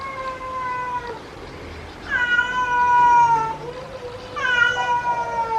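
A cat meows several times at a pool villa in Chiang Mai, Thailand, with loud, close, drawn-out calls, the later ones longer and wavering, and no talk over them.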